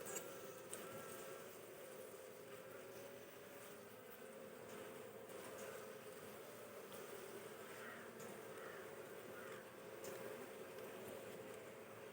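Honey bees hum at an open hive during beekeeping, a soft, steady, continuous buzz at low level with no pauses.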